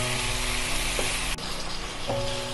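Cabbage sautéed in a pan with fried potatoes and koi fish, a constant dense sizzle with faint scraping from stirring, heard alone and close.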